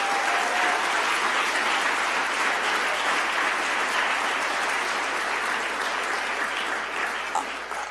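A school-district audience at the Cincinnati Public Schools State of the Schools event gives its teachers a round of applause: a dense, sustained crowd clapping that holds steady for several seconds and tapers slightly near the end.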